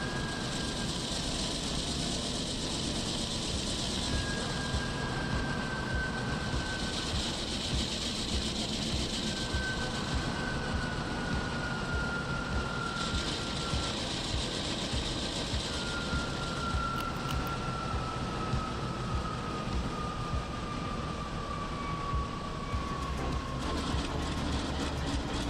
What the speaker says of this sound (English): We need an HDL sound for this locomotive